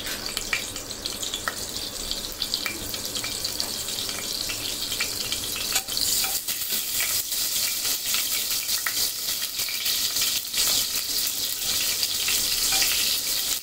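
Butter melting into hot oil in a pan for Punjabi-style chicken, a continuous crackling sizzle close up that grows livelier and denser partway through.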